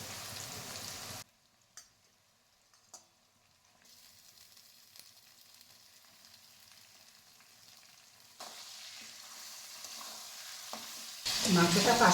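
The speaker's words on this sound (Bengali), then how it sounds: "মাংসটা 5-7 মিনিট আমি ভাজা ভাজা করে নিলাম।" Mutton fries in a pan after the onions, with quiet sizzling, a few sharp stirring clacks early on, and the frying growing louder and busier toward the end.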